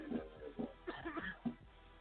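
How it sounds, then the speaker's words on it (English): Several short, quiet coughs in quick succession, close by, with brief pauses between them and no talking. "Oh, you coughing."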